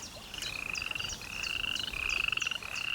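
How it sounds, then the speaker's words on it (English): A small toad calls in a steady, high trilling croak, with a few sharp chirping notes repeating over it, close and alone against faint background noise. "Pretty little toad."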